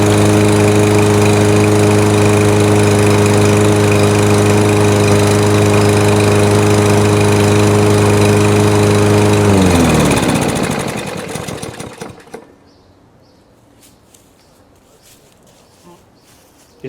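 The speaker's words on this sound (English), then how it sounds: "see if you can hear like almost a rattly tick," A Yard Force 22-inch lawn mower engine runs loud and steady with a rattling tick, then cuts off and spins down into near silence.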